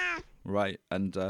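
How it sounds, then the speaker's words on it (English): A pet cat's meow sampled into a Studio One sampler and played back as pitched notes, several short tonal meows in a row, close and clear, after a brief spoken phrase. "But I sampled the cat, and it sounds like this."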